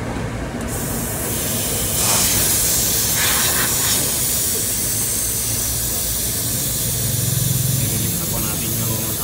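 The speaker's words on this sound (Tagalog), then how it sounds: "Nililis na po natin yung hangin" Air hissing steadily as it is bled from the air-conditioning system of a Mitsubishi L300 FB van with a very dirty condenser, a broad loud spray-like rush with a few brief bursts, and a mechanic's voice speaking at times.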